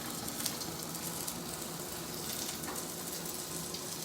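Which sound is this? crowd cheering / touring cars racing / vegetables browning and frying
vegetables browning and frying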